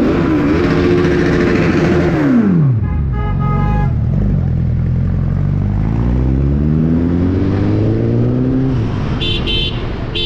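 Suzuki Hayabusa motorcycles pull away on a Spiti Valley mountain trip, loud close engine revs climbing and falling through gear changes, with a brief horn toot near the end.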